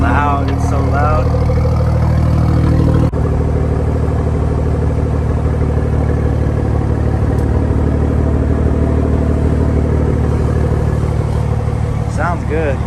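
A 2021 Toyota Supra A90 fitted with a dual Tomei titanium exhaust, warm started up close: a sharp crank catch, then a loud, steady, rumbling idle that continues throughout, with a person speaking briefly at the start.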